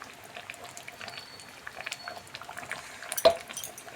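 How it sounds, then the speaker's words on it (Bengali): Ghee goes into a pan of Bengali sukto, a simmering vegetable dish. Soft, quiet bubbling and sizzling continue throughout, with a brief sharp clink near the end. "এরপর সবার শেষে আমি একটু ঘি দিয়ে দিলাম"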